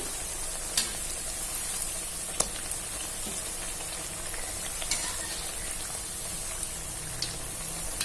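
Pieces of sweet dough deep-fry in hot oil with a continuous, even bubbling hiss and fine crackle, dotted with occasional sharper pops, steady and close throughout.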